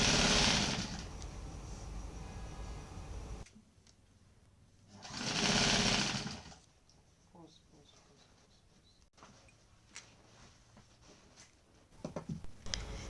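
Sewing machine hemming the lower edge of baby girl shorts, loud motor bursts in short runs with quieter pauses between stitching passes.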